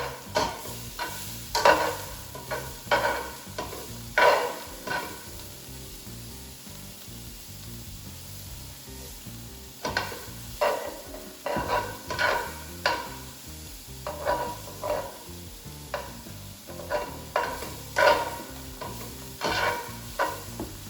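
Chicken seasoned with black pepper sizzles in a hot pan while a utensil stirs it, clusters of scraping, clattering strokes in bursts over a steady frying hiss, close by and without talk.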